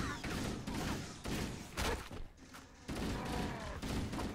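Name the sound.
assault rifle firing on full auto in Halo: CE Anniversary video game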